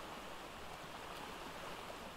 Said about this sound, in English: And then this is the waterfall.